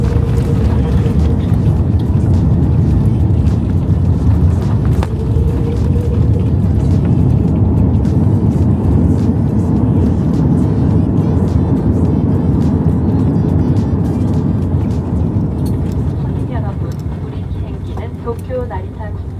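Steady roar of an Airbus A330-300 cabin during landing at Tokyo Narita airport, a loud continuous engine and airflow rumble that eases slightly near the end, with faint talk over it.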